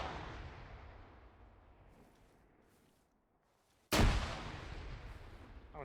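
A single sharp frag grenade blast cracks out loudly after a quiet, fading stretch of outdoor ambience in a squad training game, its rumble trailing off over the next seconds.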